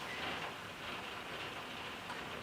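Rain falls outside on a grey, windy day, a soft, even hiss of drops that continues steadily without breaks, faint and alone.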